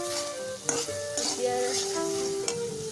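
Ground spice masala sizzles and fries in a pan for Assamese phol kobi tharir recipe, with steady close frying hiss broken by several sharp scrapes and clinks of a spoon stirring against the pan.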